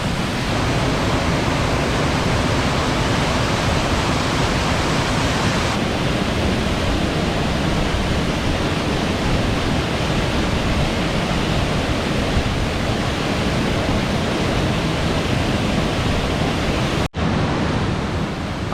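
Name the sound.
waterfall at Glenwood Springs, water falling through rocks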